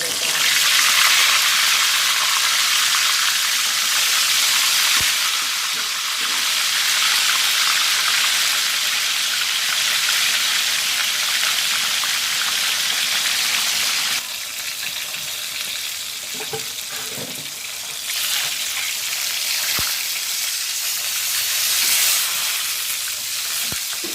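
Steady, loud sizzling of tilapia frying in a Teflon pan, a continuous crackling hiss with a few soft clinks, no one speaking.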